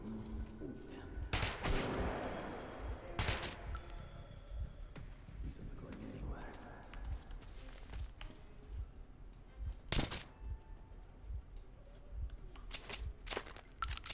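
Gunfire in Metro Last Light Redux, with scattered sharp shots and short bursts at moderate level, separated by quieter stretches of game ambience and metallic clinks.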